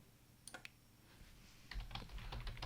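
Code is typed on a computer keyboard, a few quiet isolated key taps followed by a faster run of soft clicks, close but faint, with no voice.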